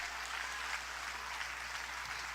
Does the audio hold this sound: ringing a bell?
no